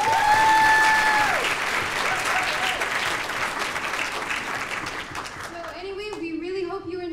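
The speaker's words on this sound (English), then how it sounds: "So can we give them another round of applause?" Theatre audience applauding the cast and crew before a stage production of Harvey, a loud, full wash of clapping that fades gradually, with cheers early on and voices speaking as it dies down.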